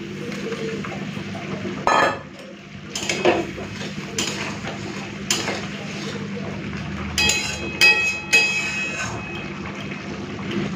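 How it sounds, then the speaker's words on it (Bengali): Fried pointed gourd tipped into a pan of poppy-seed paste clatters against the metal, with a sharp knock near the start and a few lighter scrapes and taps over a low, steady kitchen background. "এখন আমি ভেজে রাখা পটলটা দিয়ে দেবো"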